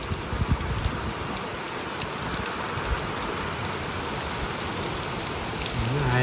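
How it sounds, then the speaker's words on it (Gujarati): Heavy rain pouring down at night in a village near Botad, a dense, steady, loud hiss of falling water with no pauses and no voices. "મસ્ત જોરદાર ધોધમાર વરસાદ પડે હે."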